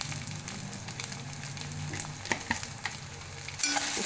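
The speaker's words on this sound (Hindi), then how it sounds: "शक्कर और नमक डालने से एकदम भून गया है, ये लाल हो गई प्याज, और अदरक लहसुन भी भून गया" Onion, ginger, garlic and masala fry with sugar and salt in a pan, giving a continuous close sizzle broken by scattered spatters and stirring scrapes, ending in a louder burst of frying with no one talking.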